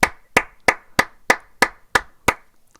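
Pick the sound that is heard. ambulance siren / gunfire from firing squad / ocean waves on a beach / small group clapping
small group clapping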